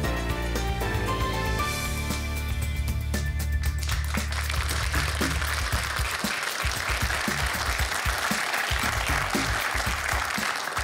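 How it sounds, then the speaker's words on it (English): A television studio audience in Sydney claps steadily at the start of a live current-affairs panel show, dense continuous applause that first plays under closing theme music and then carries on alone. "as you can probably hear from that clapping, I'm thrilled to welcome back our studio audience."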